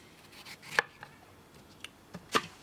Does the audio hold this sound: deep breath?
no